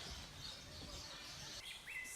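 Parrots calling near a zoo entrance in Mauritius, a few short, thin chirps and whistles over a faint, steady background hum.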